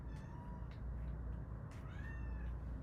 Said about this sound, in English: every time we go into the pantry, she cries for food